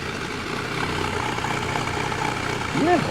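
A Volkswagen Golf Mk2 engine idles with a low, steady exhaust rumble, the tone rising slightly near the end.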